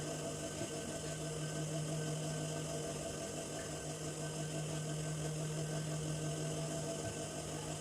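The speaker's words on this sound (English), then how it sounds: "So I'm going ahead to sew on my machine." A sewing machine stitching a shirt collar hums quietly and steadily at a constant speed, a faint, even mechanical whir with no pauses and no talking.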